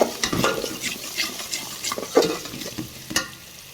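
Garlic and cumin paste frying in a pan, a steady close sizzle broken by repeated stirring scrapes and a few sharper clinks, with no voices.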